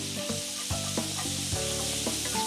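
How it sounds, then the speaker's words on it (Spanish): Apples and onion fry in rendered pork fat, giving a loud, continuous sizzle broken by occasional stirring clinks close by, with no talking. "en esa grasita vamos a cocinar las manzanas"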